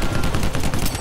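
Rapid automatic sniper rifle fire in the Anthem game, a steady close stream of loud, evenly spaced shots lasting about a second with no voices.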